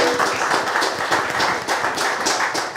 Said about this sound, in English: Round of applause, please, for Michael and Starry.